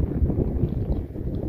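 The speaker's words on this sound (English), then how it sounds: "windy again." Wind blowing in the desert beside a young camphor tree, a steady low roar buffeting the microphone with no voices.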